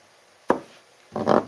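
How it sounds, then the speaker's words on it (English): A knife chopping vegetables on a cutting board in a home kitchen, one sharp close chop followed by a quicker, rougher cluster of cuts. "you're just chopping for food"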